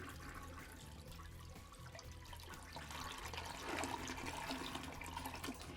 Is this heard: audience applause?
no